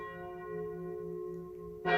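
A church bell rings out with a long, steady, sustained tone over quiet surroundings, with the start of another strike at the end and no talking.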